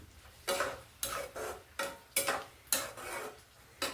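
Peanuts stirred in a pan for a Telugu rooti pachadi with coriander and bachalikura, seven sharp scraping strokes at a steady rhythm, close and alone, over a faint sizzle.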